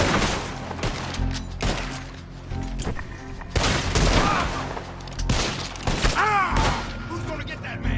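A posse shooting in the video game Red Dead Redemption 2, loud overlapping volleys of gunshots in irregular bursts, close and echoing, mixed with shouting voices and other game sounds.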